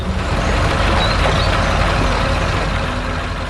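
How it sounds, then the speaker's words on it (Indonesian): A red farm truck with big tires roaring in an animated scene in a green rice field, a loud, steady, close engine drone with a low rumble holding without pause. "Suara mesinnya menggelegar, menggerakkan tanah dengan kuat."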